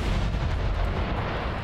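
A grenade blast in the video game Riddick: Escape from Butcher Bay, a loud, dense rumbling boom that fills the whole short moment with no voice over it.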